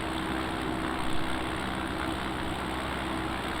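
Cockpit engine and wind noise of an X Cub light aircraft descending in a slip over the Monterey Peninsula, a steady broadband drone held at constant loudness, with no talk.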